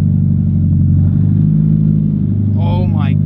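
A Mazda Miata engine idles loud and rough right after a new clutch install, a steady low rumble up close, with a voice speaking briefly near the end.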